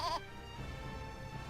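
A goat in the video game Eternal Sonata lets out a single short, close bleat at the very start, followed by a quiet game background.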